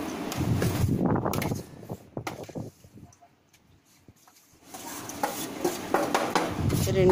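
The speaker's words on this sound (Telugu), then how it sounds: "రెండింటిని బాగా మిక్స్ చేసుకోవాలి దీనికి మనం చెక్క గరిటలే వాడాలండి" A wooden spatula stirs mango pulp and jaggery, making scraping, sloshing strokes at close range. The sound is loud at the start, goes quiet in the middle, then resumes.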